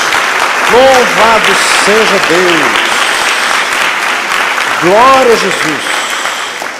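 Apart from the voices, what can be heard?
applause for Jesus in church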